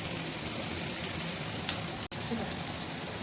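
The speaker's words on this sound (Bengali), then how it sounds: "ক্যাপসিকামটা দেওয়ার পর হালকা সটে করে নেবো" Capsicum sautés in a pan of hot oil for chilli chicken, giving a continuous close sizzling hiss with a brief dropout partway through.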